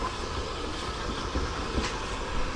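Ffestiniog Railway locomotive Palmerston pulling away from Porthmadog on the far side of the station, a steady low rumble of the moving train with faint clanks, heard from some distance.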